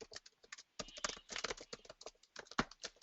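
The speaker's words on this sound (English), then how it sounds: "I can hear typing in the background" Someone types rapidly on a computer keyboard, a quiet, distant clatter of uneven key taps with short pauses, heard alone in the background.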